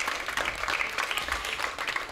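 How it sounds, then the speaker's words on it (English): Applause from an audience at a youth primary-school tapeball cricket prize event in Berbice, a steady dense patter of many hands continuing throughout at moderate distance. "Give yourselves a round of applause."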